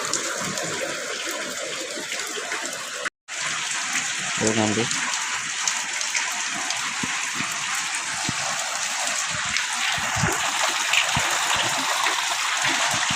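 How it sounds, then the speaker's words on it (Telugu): Heavy rain pours steadily outside a room at a village farm during harvest time, a broad continuous wash that stays loud throughout with a brief dropout, while a voice speaks briefly over it. "చాలా వర్షం పడుతుంది."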